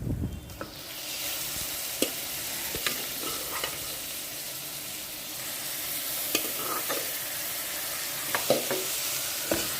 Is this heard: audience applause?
no